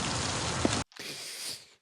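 Steady rain patters on a surface with a dense hiss, cuts off abruptly, then returns softer and more distant before fading, in a film scene.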